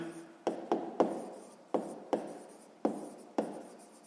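A pen writes on paper during a sixth-grade maths exercise, producing close, quiet scratchy strokes in short bursts, about eight separate taps and scribbles with brief pauses between them.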